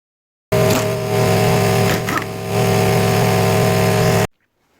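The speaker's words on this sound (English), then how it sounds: "once I've removed the locking nut with the impact, because this kept spinning" An impact wrench takes off a lock nut during a teardown of a Mazda FD RX-7 13B rotary engine, giving one continuous loud, close buzzing run of about four seconds that starts and stops abruptly.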